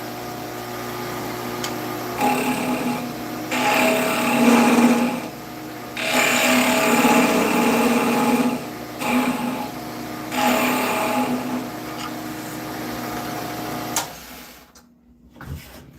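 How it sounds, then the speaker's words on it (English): Wood lathe spinning at about 2150 RPM during a woodturning session, a steady machine hum with loud bursts of cutting noise swelling and fading in several passes, then dropping off near the end. "We are turning at 2150."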